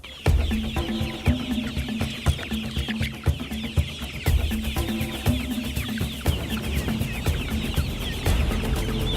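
Pastured chickens cluck in a busy flock on an open farm, with steady overlapping clucks and squawks close by and no talk.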